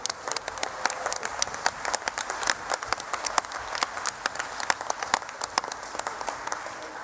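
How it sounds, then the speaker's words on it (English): An audience at the 2018 TUC Congress applauds the Peak District Sax Quartet, with dense, steady clapping from a large crowd that stays loud and even throughout, without speech. "can I ask for a really big round of applause for the Peak District Sax Quartet?"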